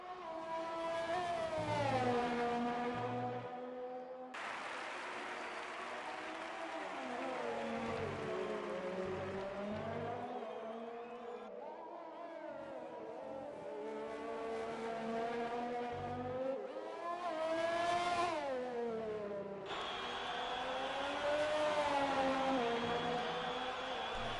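Renault Formula 1 car engine screaming through a lap of the Hungarian Grand Prix circuit in an F1 video game, loud and continuous, rising and falling in pitch with gear changes and braking, no talk.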